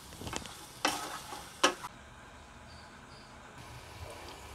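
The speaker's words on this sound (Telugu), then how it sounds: "ఇప్పుడు ఈ ఆనియన్స్ బ్రౌన్ కలర్ వచ్చే వరకు మనము ఫ్రై చేసుకుందాం" Onions and green chillies with a pinch of salt frying in oil for a beans and drumstick curry, heard as a faint sizzle with two sharp stirring scrapes early on, then a quiet hiss with no talking.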